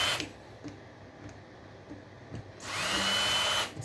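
A power drill backs small flathead screws out of a transformer in short, quiet bursts, then runs in one longer, louder whir near the end before stopping.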